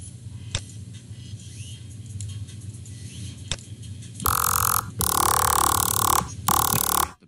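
A vomit bass preset played in the Serum synth, gritty burping, growling stabs in short bursts after a quieter rumbling intro, loud and alone without talk.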